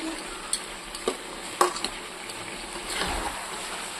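Prawn and vegetable-stalk curry being stirred in a wok, soft bubbling sizzle with a few sharp spatula clicks against the pan, fairly quiet and close.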